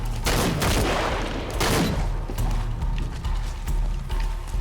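Shadow of the Tomb Raider firefight: a rapid burst of loud gunfire, then mechanical clicks and clacks of a weapon reload, with more shots and rattling continuing throughout, no voices.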